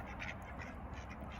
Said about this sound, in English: My plans to get the ducks to work in this water worked.